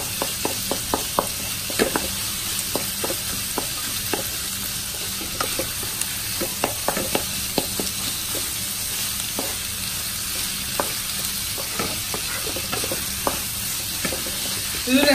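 Sliced onions fry steadily in a pan for a Kerala-style mango curry, a continuous bright sizzle broken by repeated sharp scrapes and knocks as a spoon stirs them, close and fairly loud with no talking.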